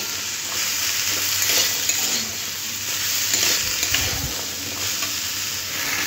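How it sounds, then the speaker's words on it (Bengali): Mixed vegetables with beetroot sizzling in a pan as they are fried and stirred, a continuous close hiss with occasional scraping stir strokes, no voices. "দেখুন ভালো করে আবার একটু সবজিটা ভেজে নিচ্ছি।"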